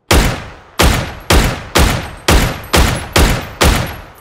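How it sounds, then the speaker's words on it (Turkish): A Dragunov semi-automatic sniper rifle fires eight loud, sharp shots at a steady, rapid rhythm in a video game, each crack decaying briefly before the next, with no talking. "Geleneksel Rus yarı otomatik keskin nişancı tüfeği. Evet, karşınızda yeni silah Dragunov."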